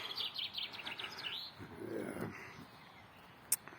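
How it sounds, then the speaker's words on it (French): Small birds chirp in late spring around Roman ruins. A quick series of faint tweets comes early, then fades into quiet open-air ambience. "C'est fin de printemps, avec les petits oiseaux et tout."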